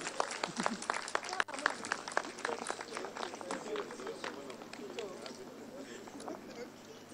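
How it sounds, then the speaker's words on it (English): Applause from a crowd at an award ceremony, dense overlapping claps that hold steady for several seconds, with some voices mixed in. "Please keep the applause going."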